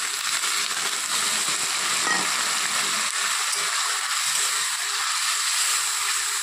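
Potatoes and onions fried deep red, for a small-fish chorchori, hiss in the pan as a little water goes in. The sizzle is loud and steady throughout, close up, with no voices.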